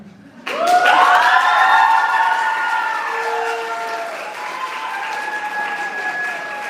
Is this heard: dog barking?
no